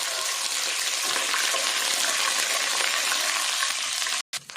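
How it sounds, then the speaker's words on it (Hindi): Chicken sizzling in hot oil with ginger and garlic for biryani, a steady, dense frying hiss that holds evenly throughout and cuts out briefly at the very end. "अदरक लहसुन के साथ ही हम चिकन को भून लेते हैं"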